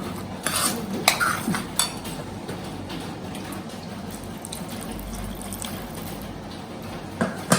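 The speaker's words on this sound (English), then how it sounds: "Go on adding and mixing and see how much water you need." Multigrain khichdi being stirred with water in a pot, giving a steady wet swishing broken by a few sharp clinks of a utensil against the metal, close and moderately loud with no talking.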